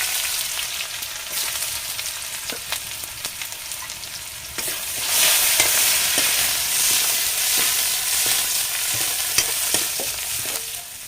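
Chopped onion frying with panch phoron and dried chilli in hot oil, a steady loud sizzle with stirring scrapes throughout that swells louder midway, with no talking.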